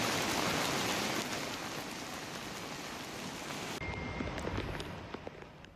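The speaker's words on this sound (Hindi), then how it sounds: "24 घंटे में रिकॉर्ड बारिश हुई है, सब कुछ डूबा हुआ चारों तरफ नजर आ रहा है।" Heavy rain pours down during flooding in Uttarakhand and Himachal, a dense continuous hiss that eases slightly partway through, with scattered louder drops and splashes, no voices.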